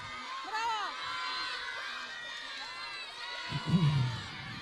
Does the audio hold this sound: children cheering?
yes